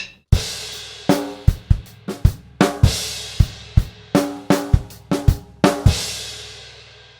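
Two bars of a grade 3 drum kit groove played in a steady flowing pattern of kick, snare and hi-hat strokes, with crash cymbals washing over the downbeats. Close, loud and unaccompanied, no voices.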